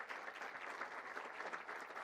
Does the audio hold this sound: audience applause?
yes